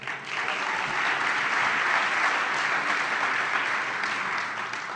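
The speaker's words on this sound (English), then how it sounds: "Can you give a round of applause to this incredibly special moment that we're experiencing tonight?" Sustained applause from a large crowd, a dense steady wash of clapping that swells quickly and holds for several seconds before easing slightly.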